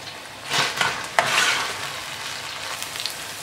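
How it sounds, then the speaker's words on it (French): Onions frying in oil and stirred in a pan for a Pakistani chicken karahi, a close sizzle with scraping stir strokes and a few utensil knocks early on, fading to a steadier hiss. "les oignons. Et on va faire le doré."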